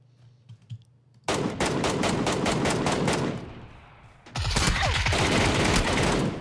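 A suppressed UMP submachine gun fires in PUBG in two long, rapid bursts of close automatic shots, separated by a short lull, with faint key clicks before the first burst.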